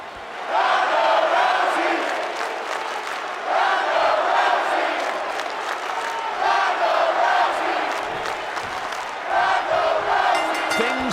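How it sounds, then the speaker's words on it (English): A virtual arena crowd in the WWE 2K20 video game cheers loudly during a women's wrestling match, with roaring, whooping swells rising and falling in repeated waves. "these women may be caught off guard a bit by this stellar crowd reaction they're receiving here"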